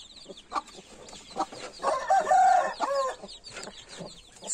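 Indian turkey chicks, a few days old, outdoors on a mild day, chirping and peeping in quick overlapping calls, with a louder burst of cheeping in the middle; no talking.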